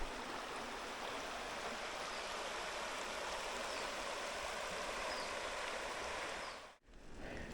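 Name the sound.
river stream flowing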